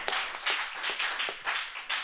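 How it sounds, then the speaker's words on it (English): An audience at a local music showcase claps steadily for about two seconds, a dense patter of many hands with small swells in loudness. "Everybody clap."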